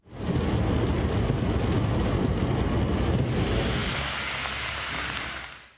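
Heavy downpour in Çeşme, İzmir, a dense, loud, continuous roar of rain and wind that softens slightly toward the end, without any talking.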